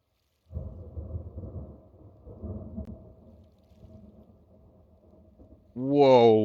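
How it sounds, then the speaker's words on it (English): Distant thunder rumbles low and rolling at night by a fishing spot, followed by a sudden louder, closer burst near the end as a thunderstorm with rain moves in; no speech. "here comes the rain"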